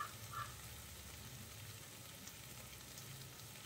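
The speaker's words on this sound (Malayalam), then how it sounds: "ഇത്രയും ചേർത്തതിന് ശേഷം പൊടികളുടെ പച്ചമുളം മാറുന്നത് വരെ നന്നായിട്ടൊന്ന് വഴറ്റിയെടുക്കാം." Pepper and chilli powders sauté in a pan for samosa filling, a faint, steady low sizzle throughout with no distinct stirring strokes.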